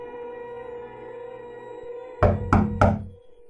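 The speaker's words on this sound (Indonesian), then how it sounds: "Suara ketukan terdengar di pintu depan." Three firm knocks strike a front door in an even, evenly spaced rhythm. They stand out loud and close over a quiet, steady humming background.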